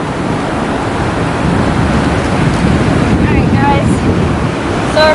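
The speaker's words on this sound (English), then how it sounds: "It's really windy though." Strong wind and crashing surf at an ocean beach roar steadily throughout, with heavy wind buffeting on the microphone and faint voices briefly audible beneath.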